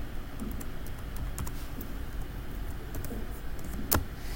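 Soft, steady keyboard typing runs close by throughout, made up of light, scattered clicks, with one sharper tap near the end.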